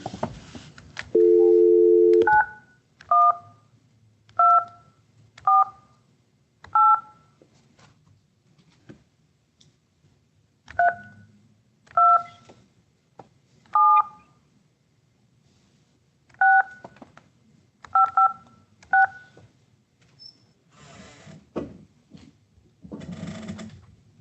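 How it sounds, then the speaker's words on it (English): Touch-tone telephone keypad dialing a number: a brief steady dial tone, then a run of about a dozen short, evenly spaced DTMF beeps in small clusters, clear and close in an otherwise quiet room. "I'm going to try to dial this phone number that's on the pleadings."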